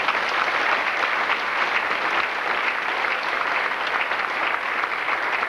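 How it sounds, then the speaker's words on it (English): Sustained applause from a crowd at a middle school banquet honoring the eighth grade staff, loud, dense and continuous from start to finish. "So let's give them a round of applause."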